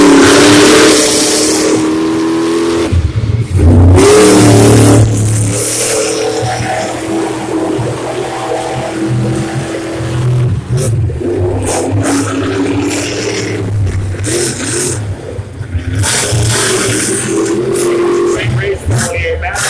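Monster trucks racing a semi-final round rev loudly throughout, with throaty engine roar rising and falling under continuous excited announcer commentary and crowd noise.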